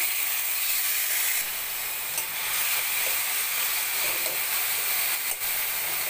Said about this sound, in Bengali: রসুনটা ভাজা হয়ে গেছে, এবার আমি সেদ্ধ করা শাকটা ঢেলে দেব।